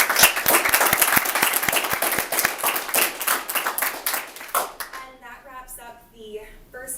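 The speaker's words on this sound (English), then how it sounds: "And everyone, if you could give them another round of applause." An audience claps after a talk in a dense, steady round of applause that lasts several seconds, then thins out and fades as a voice begins speaking.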